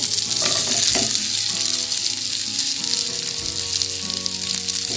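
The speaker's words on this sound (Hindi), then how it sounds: "प्याज ऐड करते हैं।" Onions dropped into melted fat sizzle loudly and steadily up close, with a few stirring clinks near the start and no speech.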